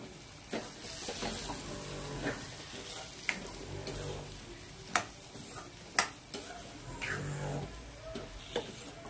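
Chopped potato being stirred into a simmering drumstick curry in a pan for a Maharashtrian rassa bhaji, with soft sizzling and scattered clicks of the spoon against the vessel, fairly quiet and close.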